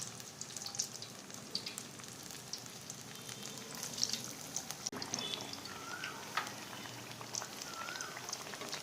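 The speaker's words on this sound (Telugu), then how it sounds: "ఇంకాస్త వేగాలి, అప్పుడే తిరగేయడం కావదు" Aratikaya bajji, raw banana fritters, sizzle steadily in hot oil, a dense crackling hiss with scattered pops and bubbling throughout, close and fairly loud with no talking.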